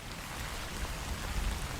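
Steady rainfall in the video game My Work is Not Yet Done makes a dense, even hiss with a low rumbling undertone, constant and moderately soft, with no talking.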